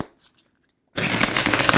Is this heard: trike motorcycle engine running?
no